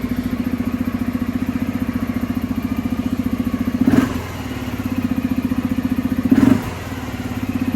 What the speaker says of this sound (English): this is how the Bergman sounds after the new filter